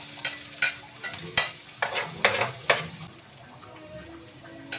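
Onion dropped into plenty of hot oil in a pan for pancit canton, giving a close hissing sizzle with several sharp clatters and scrapes of a spatula, then a quieter steady frying hiss.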